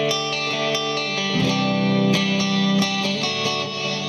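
Electric guitar chords through a Fender Super Sonic amp ringing out with a deep, washy reverb tail, played alone with a steady, sustained tone and a few sharp strums.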